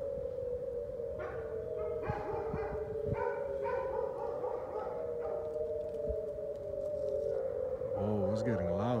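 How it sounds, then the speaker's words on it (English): Several dogs bark in agitated bursts over a steady loud, droning hum from the sky heard in Alabama, the barking scattered through the clip and rising near the end. "My dogs are freaking out."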